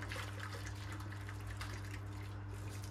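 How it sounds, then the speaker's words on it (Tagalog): Hot water trickles and pours into a bain-marie pan holding leche flan, a soft, faint, steady stream of liquid over a low background hum. "Dagdagan natin ng tubig."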